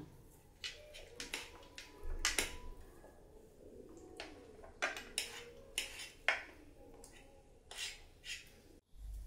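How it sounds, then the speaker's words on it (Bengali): Metal fork scraping and clinking against a bowl while shredding cooked chicken for dhaba-style chicken bharta, a series of irregular, fairly quiet clicks and scrapes close by, with no talking. "এরকম ফকের সাহায্যে জাস্ট চিকেনগুলোকে এরকমভাবে ছাড়িয়ে নিতে হবে"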